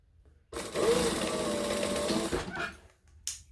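A sewing machine top-stitching a bag lining runs in a single steady close whir for about two seconds, then stops, followed by faint handling sounds.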